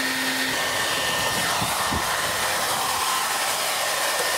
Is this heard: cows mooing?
no